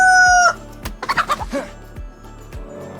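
Chickens cluck in the DayZ video game, with a burst of rapid clucks at close range following a brief tonal call. A soft word is spoken at one point.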